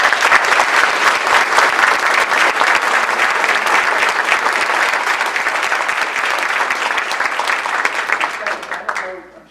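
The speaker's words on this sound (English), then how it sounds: "let's give everybody a round of applause." Audience at a community forum giving a round of applause, dense sustained clapping from a large crowd that fades out at the end.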